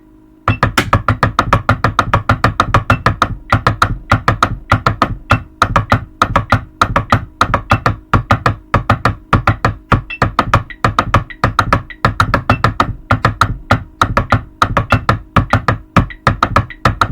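Drumline sixteenth-note timing exercise on drums, a long run of steady, crisp repeated strokes in even rhythmic patterns with regular accents, close and loud with no talking.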